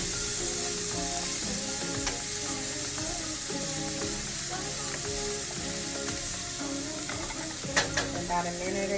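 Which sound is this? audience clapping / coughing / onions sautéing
onions sautéing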